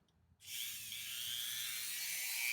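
Dremel rotary tool with a brass brush polishing metal clay, a sudden high whine starting after a moment of quiet and holding steady and close.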